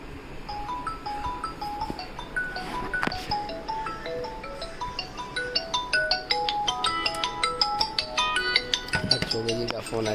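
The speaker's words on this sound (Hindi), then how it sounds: "चौबे जी का फ़ोन आ रहा है" An incoming-call ringtone chimes repeatedly as a melodic tune in a repair shop where a MacBook Air motherboard is being replaced, moderately loud with people talking underneath.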